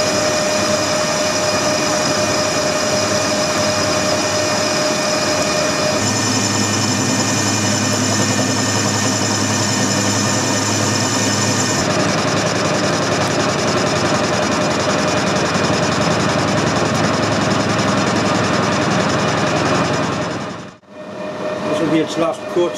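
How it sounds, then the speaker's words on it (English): Metal lathe taking a final facing cut on an eccentric workpiece, a loud steady machining whine and hum that shifts in tone partway through, then drops out near the end before resuming briefly. "All you need to do now is machine off this piece here down to that edge there"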